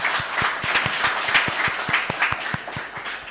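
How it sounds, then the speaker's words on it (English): Audience applause at a political event, a steady crowd of clapping hands with distinct sharp claps rising above the wash, sustained at an even level throughout. "Let's give him another round of applause"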